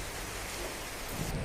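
A heavy thunderstorm with steady downpour: a dense, even hiss of rain over a deep, rumbling undertone, continuous throughout.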